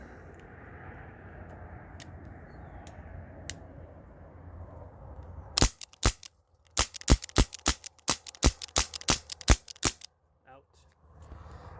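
An Umarex Brodax Glock 19 Gen 3 BB pistol running on a hooked-up CO2 line fires a rapid string of about a dozen sharp, snappy pops, close and loud after a quiet stretch of background hiss.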